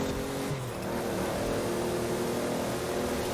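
Subaru rally car in the Forza Horizon 4 racing game, its engine holding a loud, continuous drone with a brief dip early on, no talk over it.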